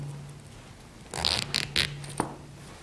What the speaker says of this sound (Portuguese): Vamos pegar o zíper com o cursor para baixo